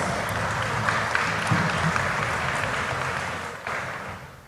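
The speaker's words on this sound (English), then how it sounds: "please put your hands together and give a round of applause" Audience applause at a real estate summit, a steady dense wash of clapping that runs the whole time and thins slightly toward the end, with faint voices underneath.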